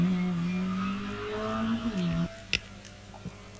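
A racing car, likely a 1380cc Alston Mini, sits at the hillclimb start line at Wiscombe Park, its engine droning and revving up before it cuts off with a few sharp knocks and a louder burst.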